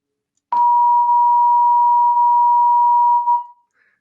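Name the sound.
1000 hertz pure tone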